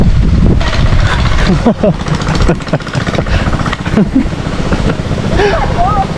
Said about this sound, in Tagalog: naririnig mo na kasi yung tunog ng traktora